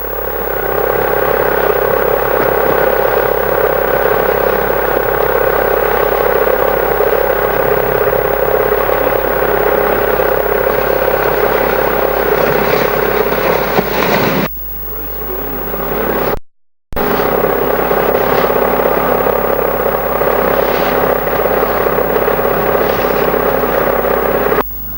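A powerboat engine runs at a steady loud drone and clatter as the boat circles in rough weather at the 1982 Poole powerboat race. It cuts out briefly, then resumes at the same level, with no talk.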